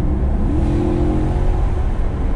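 A Maserati GranTurismo's 4.2-litre V8 engine runs loud and close, revving with a deep rumbling tone that holds steady over a couple of seconds.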